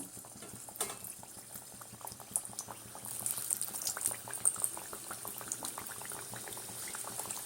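Kachori stuffed with moong dal fry in hot oil over a low flame, a steady soft bubbling with scattered small crackles and pops, fairly close and alone without talk.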